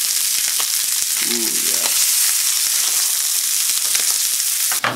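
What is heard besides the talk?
fish sizzling in a frying pan with soy sauce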